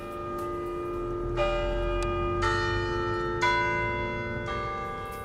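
Large tower bells ring out in slow, resonant strikes about once a second, their long humming tones overlapping and sustaining between hits.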